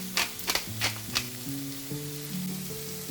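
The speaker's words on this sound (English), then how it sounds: "Salt, pepper, and mix the veggies well." Vegetables for a veggie sauce are stirred in a hot pan with salt and pepper, giving a steady sizzle under a few scraping stirs early on, close up, with a low tonal hum running underneath and no voice.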